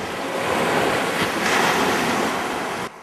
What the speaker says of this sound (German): jetzt, bei hochgehender Flut, ist der Fluss reversed. Er geht in die Lagune.